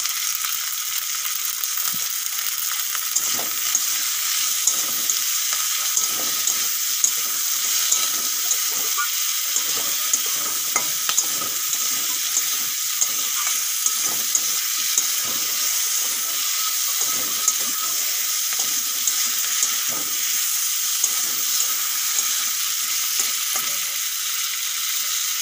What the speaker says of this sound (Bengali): টমেটোগুলো ভালো করে ভেজে নেব।